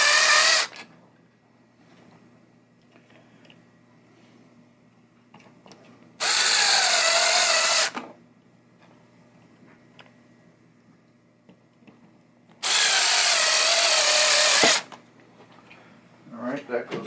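Power drill driving screws back into the pop bumpers of a 1972 Williams Super Star pinball machine, two loud sustained whirring bursts of about two seconds each, separated by quiet handling noises.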